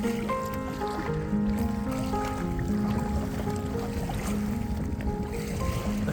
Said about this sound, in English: Coming up on our first waves here.